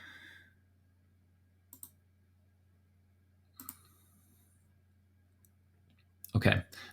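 A few sharp computer clicks, spaced apart and quiet, then a louder burst as a key is pressed to enter, over a faint steady hum.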